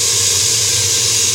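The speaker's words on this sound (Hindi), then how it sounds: "कुकर की सीटी 2 मिनट उठने के बाद मैंने इसका प्रेशर रिलीज़ कर दिया है" Steam bursts from a pressure cooker's release valve after cooking chicken, a loud, steady, continuous hiss held at full force without pause.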